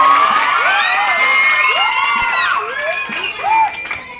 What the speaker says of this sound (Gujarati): જોરદાર તાળીઓ પાડો